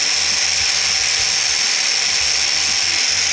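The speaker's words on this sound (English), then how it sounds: "I think we should actually grind these a bit with the angle grinder" Angle grinder grinding metal brackets, a loud steady high-pitched whine with grinding rasp held throughout and no talk.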